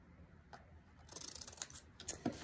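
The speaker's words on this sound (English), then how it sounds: "Take my scissors, cut out my rectangular feet." Scissors snipping through paper while cutting out rectangular turkey feet for a paper craft, a quiet run of short crisp cuts that grows denser toward the end, close and alone.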